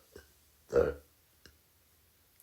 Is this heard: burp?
yes